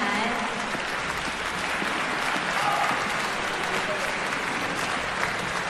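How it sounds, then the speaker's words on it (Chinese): Continuous applause from a concert hall audience welcoming the performers of a Chinese folk orchestra back onstage, a dense even patter of clapping that holds steady from start to end. "也让我们以掌声再次邀请各位演奏家上台。"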